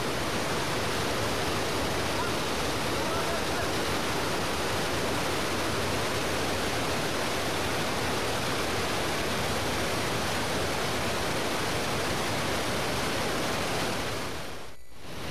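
A swollen river carrying a large volume of water rushes steadily and close by, a dense, unbroken roar with no voices, easing slightly in the final second.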